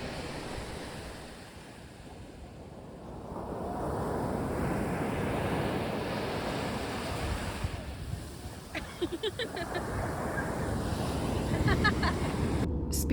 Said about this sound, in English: the rhythm of the waves and the fact that there weren't many people around made it a very calming experience